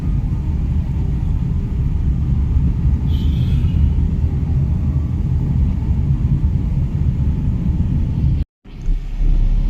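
A Tata Nano drives after a garage repair, its engine and road noise making a steady, loud low rumble from inside the car, cut off by a brief dropout near the end.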